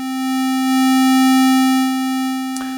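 A modular synthesizer oscillator holds a steady, buzzy tone on one pitch, swelling slightly in loudness before a brief glitchy click near the end.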